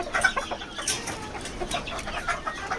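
Several desi chickens cluck in short, irregular bursts nearby as they come inside, soft repeated calls overlapping against a quiet background.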